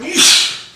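A single loud, close sneeze bursts out after a short intake of breath, then fades quickly.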